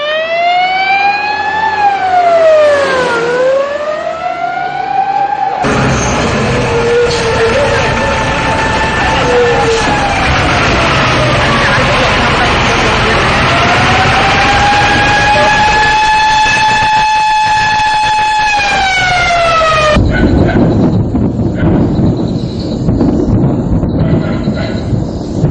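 Fire engine sirens wailing loudly and continuously as they approach an army camp where explosions continue, with rising and falling tones over heavy traffic noise.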